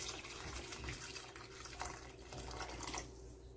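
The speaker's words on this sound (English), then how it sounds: "I'm gonna pour some hot water to it. This is boiling water from the kettle." Boiling water from a kettle pours in a steady, soft stream onto pork ribs in a pot, a gentle continuous splashing heard alone.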